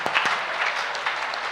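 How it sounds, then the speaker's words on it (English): Audience applause at a free school event honoring a guest, a dense, steady burst of clapping from a crowd, fairly loud and continuous throughout with no talk over it. "Clap for Dr. Jesus, everybody."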